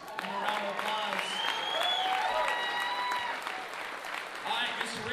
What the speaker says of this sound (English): Eric Moreno joining us. Give him a round of applause